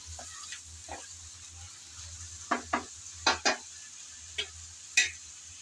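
Eggplant is stirred in a frying pan, with a spatula scraping in short, separate strokes, sometimes in quick pairs, over a soft sizzle and low background hum. No voices.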